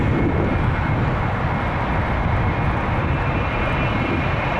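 An Air Canada Boeing 777-200LR bound for Delhi at Toronto Pearson gives a loud, steady jet engine roar, a dense broadband rumble that holds evenly throughout with no voices.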